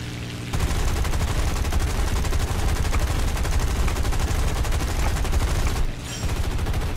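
Aircraft guns fire nonstop in a War Thunder arcade air battle, a dense, loud, rapid stream of gunfire that runs almost the whole time with only a brief dip near the end; nobody speaks.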